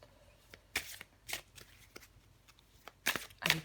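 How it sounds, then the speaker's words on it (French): Tarot cards are shuffled and drawn close by, in several short, crisp riffling bursts separated by brief pauses, with two louder bursts near the end. "Je vais prendre encore une carte pour vous les vierges."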